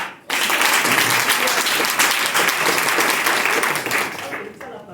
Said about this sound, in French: Il faut applaudir pour ça.